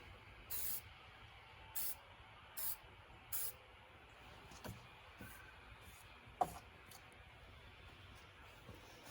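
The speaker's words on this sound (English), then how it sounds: "Now we're gonna start spraying the spray paint on there." Brief bursts of aerosol spray paint in light coats on a 2014-2018 Chevy Silverado, four evenly spaced hisses then several shorter ones, fairly quiet against a soft background.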